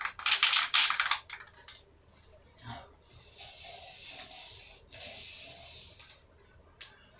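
A spray paint can hisses onto the front trim of a 1995 Ford F150, in bursts of loud spraying separated by short pauses, with a faint voice briefly heard in between.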